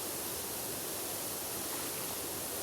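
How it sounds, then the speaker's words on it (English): Continuous broadband rush of spraying water, steady and close, with no break or change throughout. "Why does that sound like I'm spraying other water?"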